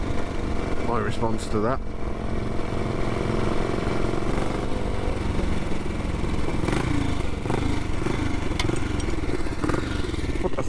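Classic BSA B44 motorcycle engine running steadily with a rough, loud mid-range drone and mechanical clatter, while people talk over it.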